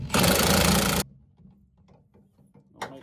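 An impact wrench on a C10 truck drives a bolt during lowering shackle installation, giving a loud, dense mechanical burst for about a second, then quiet handling clatter and a short final rattle.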